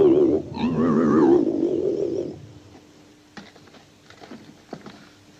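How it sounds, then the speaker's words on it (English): A warbling, chirping tone with shifting pitch plays for about two seconds, then drops to near silence with a few faint clicks and ticks. "That's the sound of the saucer we heard on the tape."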